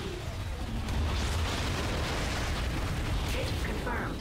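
A dense, rumbling roar of blasts fills the whole stretch, loud and continuous, heavy sci-fi ion cannon fire echoing through a battle in Ratchet & Clank (2016).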